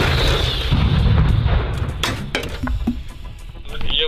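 A heavy artillery gun fires with a deep, booming blast in the Donbas, Ukraine, followed by a rumbling echo and some clinking debris as the sound fades.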